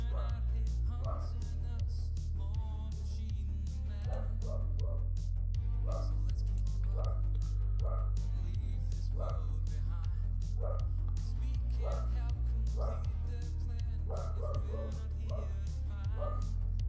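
A dog barks repeatedly in short, regular bursts over steady music with a heavy low beat, the barks sitting clearly above the backing track throughout.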